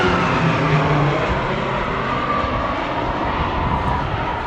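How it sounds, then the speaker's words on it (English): PC-21 turboprop trainer aircraft flying in formation at an air show in Newcastle, a broad steady engine roar that fades slowly as the planes pass, loud and alone without talk. "we fly the PC-21, which is a trainer that the Air Force uses"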